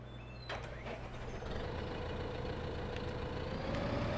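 A tractor engine idles in Farming Simulator 2015 on the Loess Hills map, a low steady rumble with a few clanks early on, the tone rising slightly as it runs.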